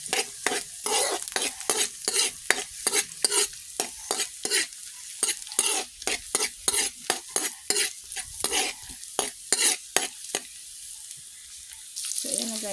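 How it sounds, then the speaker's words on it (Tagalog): Ginger sautéing in a pan while making chicken tinola: a steady faint sizzle under repeated rhythmic scrapes of a spatula stirring, close and fairly quiet, with no talking. "And guys, tinuna natin ang luya."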